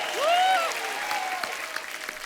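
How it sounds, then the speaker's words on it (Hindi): Applause rises from a studio audience at a comedy show as film stars are welcomed onstage, a steady wash of clapping under a loud sustained whoop or cheer, fairly close and full. "तो चलिए आप सबकी जोरदार तालियों के बीच मंच पे बुलाते हैं"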